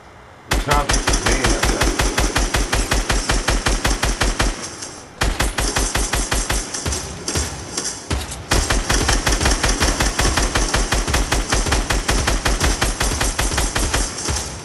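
Sustained rapid machine-gun fire, loud and close, a steady stream of evenly spaced shots broken by two short pauses before resuming, with no talk over it.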